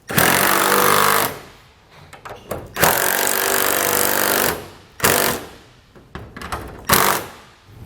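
Power tool tightening nuts and washers on replacement hasp hardware for a Polar cam-action latch, heard in three loud, sustained bursts of a second or more each, separated by short pauses and lighter clicks.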